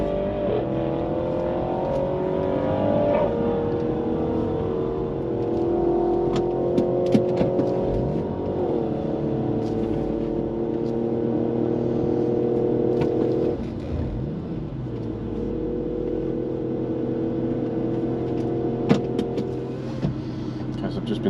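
Porsche 996 with a Hartech engine pulling away at a straight-line top speed event on a concrete runway, its engine note rising and falling through gear changes, loud and close, with speech in the background.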